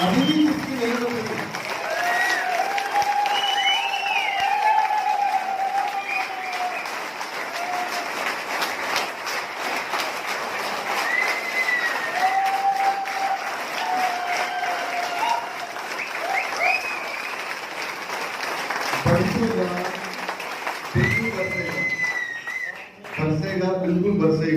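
Audience applause at an RCM business training session in Panipat, a broad steady wash of clapping lasting most of the stretch before tapering near the end, with talk running over it.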